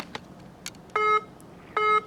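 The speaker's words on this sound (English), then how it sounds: "my phone is ringing at this time" A phone rings with two short, loud electronic trills in quick succession, preceded by a few faint clicks and tones, with no talking.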